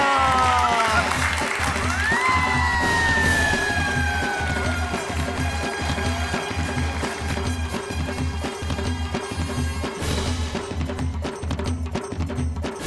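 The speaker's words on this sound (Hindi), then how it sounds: "इसी बात पे तालियां हो जाए।" Applause and crowd noise rising under loud, rhythmic music with a steady beat, continuing throughout, from a TV comedy audience.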